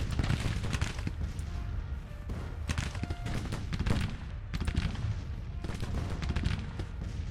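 Dense, continuous crackle of musket and cannon fire from a Civil War battle for Washington in the strategy game Grand Tactician, with overlapping shots and distant booms at a steady, fairly loud level.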